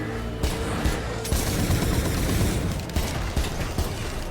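Fireworks and ICBM items fire in the Starstorm 2 video game, a dense run of rapid crackling bursts and clattering pops that pile up steadily across several seconds, loud and close.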